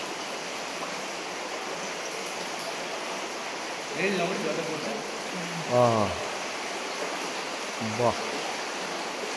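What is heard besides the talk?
water falling from above in Siju Cave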